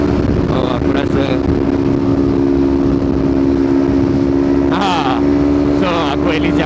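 Steady engine drone and wind roar from a Kawasaki Ninja 250 motorcycle ridden at speed on an open road, loud and continuous throughout, with a rider's voice briefly breaking through near the end.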